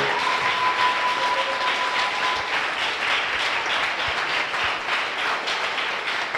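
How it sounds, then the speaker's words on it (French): A church congregation claps together during a worship service, a dense, loud, sustained wash of applause from many hands that fills the room with no voice above it. "Give the Lord a big clap"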